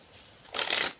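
A deck of playing cards gets a quick riffle shuffle, a short crisp burst of flutter lasting under half a second after a quiet pause, close and fairly loud.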